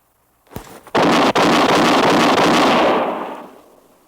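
In an old western radio drama, a gun fires with a sharp initial crack followed by a loud blast that rings and rumbles for a few seconds before fading, with no voices over it.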